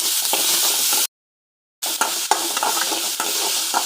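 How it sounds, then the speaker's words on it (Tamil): Two ripe tomatoes sauté in a hot pan with onion and garlic, a bright, steady sizzle broken by stirring scrapes, with a short silent gap partway through. "2 பழுப்பு தக்காளி நல்லா வதக்கிக்கலாம்."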